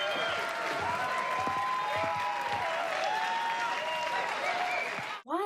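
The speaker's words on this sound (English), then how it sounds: "Lynette finishes her song and gets a round of applause," An audience in a movie applauds a singer after her song with steady, dense clapping and some voices mixed in. The applause stays loud for about five seconds and then cuts off abruptly.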